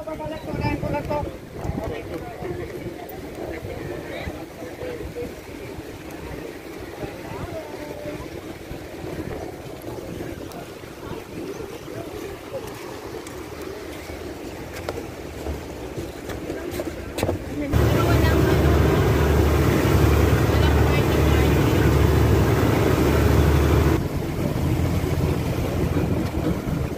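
A boat ride while island hopping around Boracay in the Philippines, with a steady engine rumble and wind buffeting the microphone that grows louder and rougher partway through, while people talk over it.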